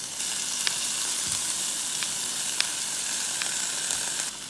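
Chicken cut down the center sizzles steadily in a hot pan, a dense even frying hiss with a few faint pops and crackles, close and alone without talk.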